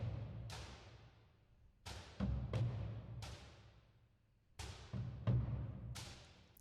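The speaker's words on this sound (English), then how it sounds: "So just Albion 1 percussions would sound like this." Albion 1 Easter Island sampled percussion: a bucket-like thud layered with metallic claps, struck about eight times in an uneven pattern, each hit decaying quickly. It plays quietly and alone.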